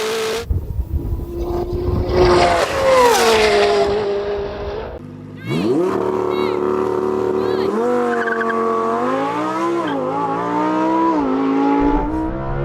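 Drag race cars roar loudly as they accelerate hard down the strip. The engine pitch climbs and shifts through the gears, with a brief break before a second car screams up and keeps revving.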